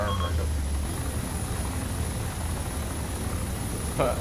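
Chinook helicopter landing in the Arma II video game, a steady low rotor drone that holds throughout under faint background noise, with no clear speech.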